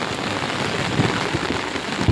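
Heavy rain pounds down in a Gujarat village during a September thunderstorm, a dense, loud, unbroken roar with scattered heavier splashes and no voices.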